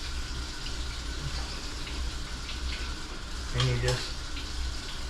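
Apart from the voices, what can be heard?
running tap water while washing face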